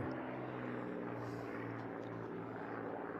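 Unlimited-class racing propeller airplanes fly in a continuous, loud droning roar that holds steady throughout, with no break in the engine noise.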